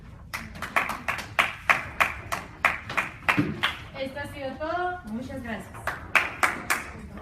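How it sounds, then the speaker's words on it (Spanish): A small audience claps after a classroom election-law debate, with loud, evenly spaced claps that stop briefly while someone talks over them and then resume. "Vamos a darles un fuerte aplauso"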